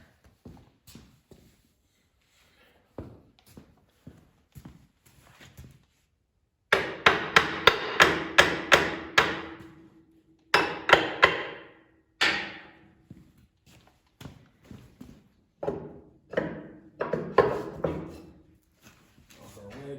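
Repeated hammer strikes ring out on metal, sparse taps at first, then loud rapid bursts of ringing blows with short pauses between.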